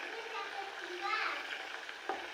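Homemade ghee boils with leaves in a pan, making a steady close bubbling sizzle with a brief clink near the end.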